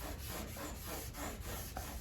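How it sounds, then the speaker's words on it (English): Primer on a 1966 Lincoln body being block-sanded by hand, a close, rhythmic back-and-forth scratchy rubbing with regular strokes about every half second, steady and fairly quiet. "I dry block most of this, like halfway, and then I wet sand to finish it out."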